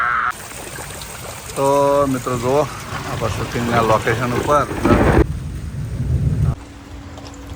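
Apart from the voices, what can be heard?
heavy rain with thunder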